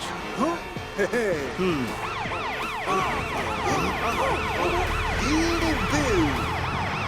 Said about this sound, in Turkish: ambulansa dönüşüp lamba ve sirenlerini aç.